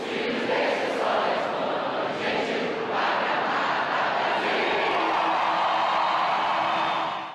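A large, enthusiastic crowd at a sporting event in Rio de Janeiro cheering and yelling in a dense, sustained roar that stays loud and even for about seven seconds.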